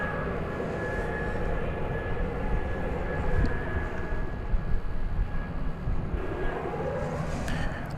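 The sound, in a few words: United Airlines Airbus A319 arriving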